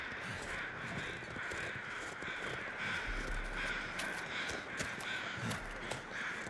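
Loud crows cawing repeatedly in the snowy wilderness of The Long Dark, harsh calls overlapping close by over a steady windy background, with no talk.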